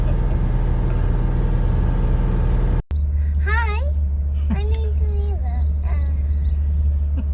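Van engine idling and warming up after a cold start, a steady low rumble that drops out briefly, with a person talking over the idle afterward.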